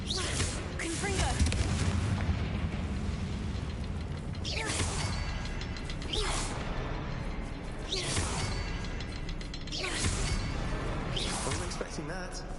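Confringo explosive spell cast repeatedly in the Hogwarts Legacy video game, four loud fiery bursts spaced a few seconds apart over a rumbling, clattering game soundscape.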